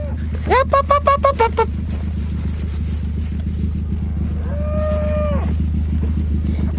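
Cows and calves moo loudly nearby in a field: a rapid pulsing series of calls, then a long drawn-out moo, over a constant low rumbling background.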